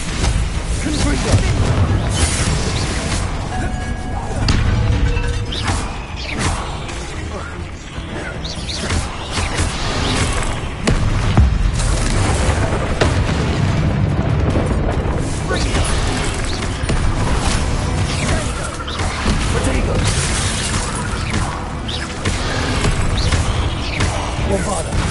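Spell blasts from Hogwarts Legacy's Confringo fire curse burst repeatedly through a dense, loud game mix of booms and crashes, one impact after another with no pause over the whole stretch.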